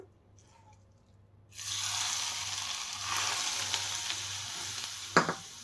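After a quiet start, cooled oil is poured into spiced chopped mango pickle and mixed in, giving a sudden wet rushing hiss, then a steady noise with scattered scraping and one sharp clatter near the end.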